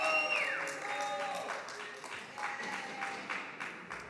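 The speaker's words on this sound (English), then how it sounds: "Please, let's stop the booing and the cheering." A crowd at a San Jose city council meeting applauds and cheers over a sustained mix of clapping and voices, with a distorted microphone tone sliding away at the start.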